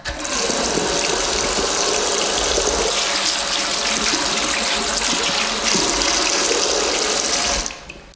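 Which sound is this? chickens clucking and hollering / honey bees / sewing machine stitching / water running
water running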